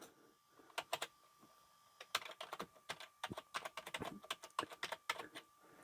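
Keys clatter on a vintage Macintosh Plus keyboard, including its numeric keypad: quick, irregular bursts of close, crisp keystrokes with short pauses between runs, and no talking.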